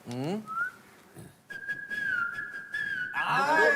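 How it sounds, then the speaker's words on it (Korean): A person whistles a bright, wavering melody, mostly sustained notes with slides, after a brief voice at the start and with chatter returning near the end. "휘파람으로 연주하면 우리가 무슨 노래인지 맞춰볼까?"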